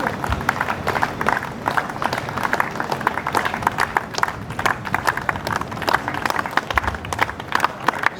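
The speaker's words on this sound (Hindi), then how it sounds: "सभी टीमें पूरे जोश के साथ तालियां बजाते हुए" Cricket teams march at the opening of a disability T20 tournament in Udaipur while the crowd claps along, a busy and loud burst of clapping mixed with crowd noise and movement that runs the whole time.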